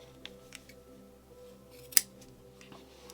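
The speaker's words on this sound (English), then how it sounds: "I'm going to cut a long enough tail so that I can weave in the ends" A single sharp scissors snip cutting a knitting yarn tail while fastening off a chunky beanie, close and quiet, preceded by a few faint handling clicks.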